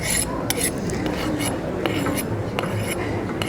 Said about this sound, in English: Here, with the cutting board, lift. There you go. Oh, there you go. Go ahead and scrape it.